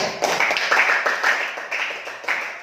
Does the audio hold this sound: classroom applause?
yes